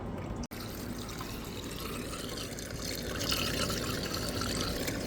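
Steady running water rinses out a squirt bottle during a gold dredge cleanup, a continuous close pour and trickle with a brief click near the start and no talking.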